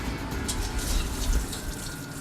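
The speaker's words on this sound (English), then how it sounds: "Drain off the liquid." Soaking water being drained off non-glutinous rice that soaked overnight, heard as a steady rush of running water, close and moderately loud, with no talk over it.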